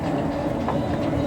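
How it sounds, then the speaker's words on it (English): The fuel pump of a 5 kW diesel heater installed in a sailboat ticks in a quick, regular run of soft clicks over a steady whirring background. "Oh, the fuel pump is going."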